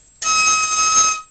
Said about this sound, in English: So now the last three here closest to the right end of your fife are off